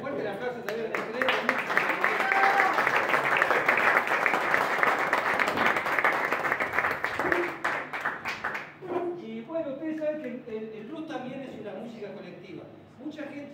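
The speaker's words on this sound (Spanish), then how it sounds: "Fuerte el aplauso también a ustedes." Audience clapping fills the room, loud and dense for about eight seconds before thinning out, then a voice talks over the fading last claps.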